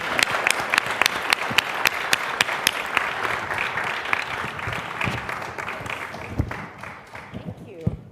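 Audience applause at a charity lunch event welcoming a host and panelists, many hands clapping loudly and steadily, tapering off toward the end.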